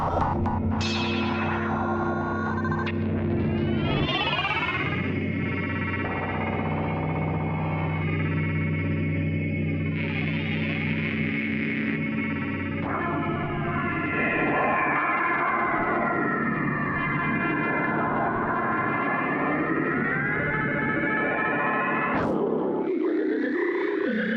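A continuous synthesized drone from the NoiseSpace Soundscapes Maker app's sound generators, with sweeping, warbling tones and shifting distorted textures, swelling and bending throughout before cutting off abruptly near the end.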